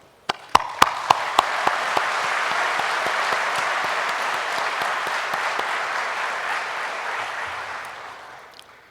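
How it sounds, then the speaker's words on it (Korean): Scattered claps quickly build into steady applause from the audience at the opening ceremony of the 2nd Korea Social Economy Expo, holding at a full, even level before fading slightly at the end. "나보다 우리를, 소유보다 나눔을 실천하신 사회적 경제인 모두에게 존경의 박수를 보냅니다."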